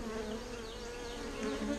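A dense, steady buzz of many honey bees on a hive frame fills the air close by, humming continuously without pause.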